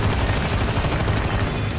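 Dense gunfire and explosive blasts from a tank battle in the Armored Brigade II war game, with RPG strikes amid T-72s and M60A3s, a loud continuous barrage of overlapping shots and booms with no pauses.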